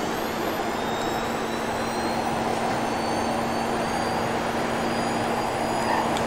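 A Western Motors SYNTH car in the Roblox game Greenville accelerates in sport mode with a steady, loud synthetic engine whine and a constant hum, holding even throughout.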